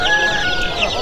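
Chicks and chickens cluck and cheep loudly and close by at the Sabunchu poultry market, with a constant chorus of high peeping throughout.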